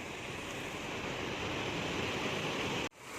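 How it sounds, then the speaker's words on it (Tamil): Water rushes forcefully through the Amaravati dam canal in a steady, loud, broadband roar that stays close and constant, then cuts off abruptly near the end. "இங்கே வந்து தண்ணி வந்து ஃபோர்ஸாக இருக்குது, அதை விட இங்கே தான் ஃபோர்ஸாக இருக்குது. தண்ணி வந்து ரொம்ப ஸ்பீடாக வருது."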